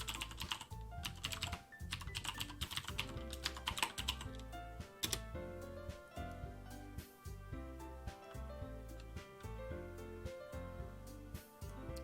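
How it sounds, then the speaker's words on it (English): Rapid keystrokes on a computer keyboard during a livestream, steady clicking bursts over background music, close and fairly quiet with no talk. "Let me type that in."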